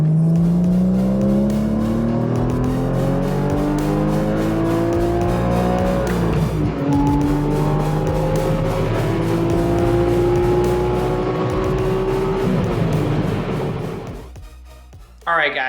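A 2014 Porsche Cayman S (981) with an Agency Power catback exhaust revs and accelerates loudly through rising gear pulls, with a brief shift dip midway and a sudden cutoff near the end.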